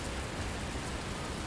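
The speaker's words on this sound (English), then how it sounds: "it's pouring down rain on me" Heavy rain pours in the bus-driving game The Bus, a dense, even hiss of drops drumming on surfaces, steady and close with no voices over it.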